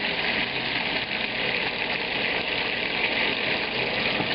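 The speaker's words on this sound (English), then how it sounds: "We're frying the hazelnuts in the duck fat." A steady, close sizzle of hazelnuts frying in hot duck fat, constant and hissy with no pauses.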